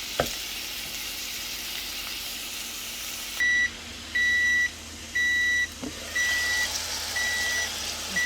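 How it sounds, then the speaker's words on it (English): A kitchen timer gives a series of short, regular electronic beeps over the continuous hiss and sizzle of vegetables frying in a pan, with a couple of faint clicks near the start. "Our timer's going off."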